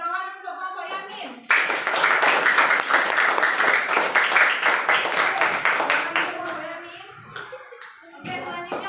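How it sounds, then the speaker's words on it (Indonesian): Students in a classroom clap for a classmate after a group presentation, a dense burst of applause lasting about six seconds. Speech is heard briefly before and after it. "Tepuk tangan untuk Bapak Yamin"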